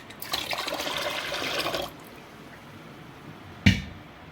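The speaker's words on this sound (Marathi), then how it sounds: "डाळीच्या वरती पाणी येईल एवढं पाणी टाकायचं." Water pours over soaking lentils in a bowl, a short splashing gush lasting under two seconds, followed by quiet and a sharp knock near the end.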